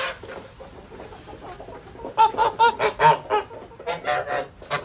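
Geese and chickens meeting in a yard make a run of loud honks and clucks. The calls come in quick rhythmic bursts in the second half, after softer scattered calls.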